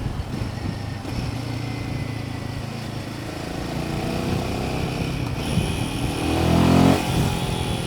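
Royal Enfield Himalayan 450 motorcycle ridden on a paved road, a continuous close engine drone with wind noise that swells as it revs near the end, no talk.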